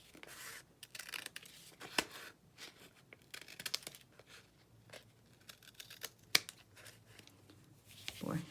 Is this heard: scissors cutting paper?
yes